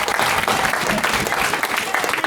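Loud, steady audience applause at a comedians' debate event, dense clapping filling the room without a break, with a voice faintly audible underneath.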